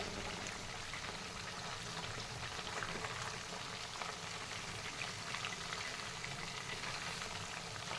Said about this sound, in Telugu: నెమ్మదిగా రెండు వైపులా తిప్పుతూ ఫ్రై చేసుకోవాలి